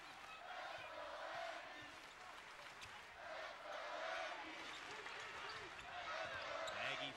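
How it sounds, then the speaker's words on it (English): Aggie basketball fans cheer during a game against Nevada's Wolfpack, a steady roar of crowd noise swelling and easing in waves, with a play-by-play voice running underneath and arena bustle throughout. "Aggie fans cheering on their team"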